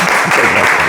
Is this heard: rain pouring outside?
no